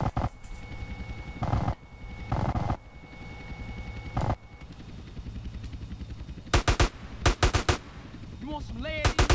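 Rifle or shotgun gunfire in GTA San Andreas: loud, sharp repeated shots in clusters, several rapid bursts toward the end, with someone talking in between.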